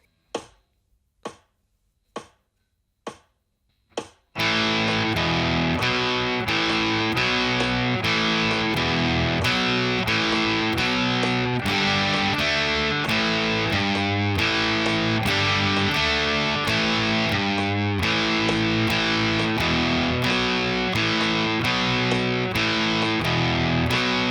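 Heavily distorted electric guitar plays a chorus rhythm, opening with four sharp isolated strokes, then a dense driving strummed section of power chords that continues loud and steady for about twenty seconds.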